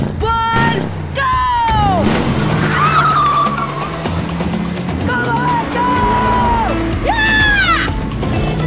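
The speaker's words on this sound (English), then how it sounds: "It's about to be a drag race." Car engines rev and tyres squeal in a drag race start, loud and close, with rising whines and several screeching skids, mixed with shouting voices.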